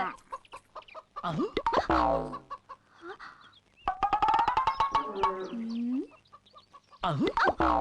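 Chickens clucking and squawking close by, agitated bursts with rising calls, pausing briefly between flurries.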